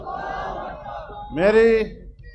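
A political rally crowd chants a loud, drawn-out religious slogan in unison, answering a leader's call at an inauguration gathering. The roaring group voice swells up briefly after a speaker, then fades.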